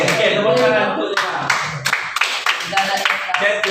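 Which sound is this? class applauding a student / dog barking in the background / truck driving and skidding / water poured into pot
class applauding a student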